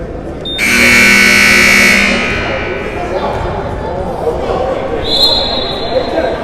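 A loud electronic buzzer sounds at the end of a high school basketball game, a harsh sustained tone lasting over a second over crowd noise and a commentator's voice, then a brief higher beep follows.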